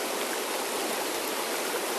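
Fast-flowing river current rushes steadily and close by, a dense broadband roar with no pauses while anglers fight a fish in the heart of the fast water.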